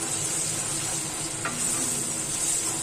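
Ginger paste sizzles steadily as it fries in a pan, with a brief scrape of stirring midway and no talking.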